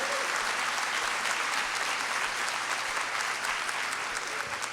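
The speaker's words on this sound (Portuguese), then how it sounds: "pode aplaudir ao Senhor." A church congregation applauds steadily throughout, a dense, sustained wash of clapping from many hands with no voices standing out.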